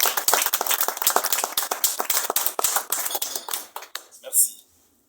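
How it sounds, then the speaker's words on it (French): A church congregation claps in a brisk, sharp rhythm, loud and close, with cheering voices mixed in; the clapping thins toward the end and fades to near silence. "Nous allons acclamer pour dire merci au Seigneur."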